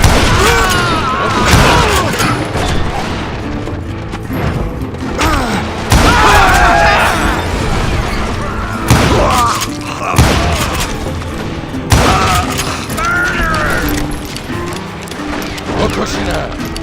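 Loud bursts of gunfire and booming blasts in the video game Call of Juarez: Gunslinger, repeated in volleys with mechanical clatter in between.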